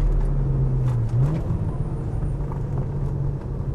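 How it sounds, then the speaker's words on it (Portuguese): A twin-turbocharged Audi S4 B5 with exhaust and chip modifications gives a low, steady engine drone close by, with a rising whistle-like tone near the start as the turbos spool. "Você consegue ouvir o som dessa turbina enchendo as duas, né?"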